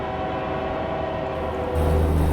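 A train rolls by in a truck-driving game set in America, a dense rumbling drone that thickens and grows louder with a deep low swell toward the end, no voices.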